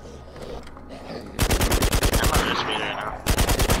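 Automatic gunfire in Romero's Aftermath, loud rapid bursts of evenly spaced shots, one long volley followed by a shorter one after a brief pause, nearby and dominant over quiet background ambience.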